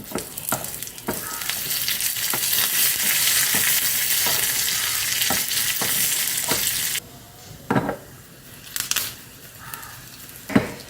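Garlic, curry leaves and a couple of small chillies fry in hot oil, a loud continuous sizzle for about seven seconds that then drops to a softer crackle, with scattered stirring clinks and scrapes throughout.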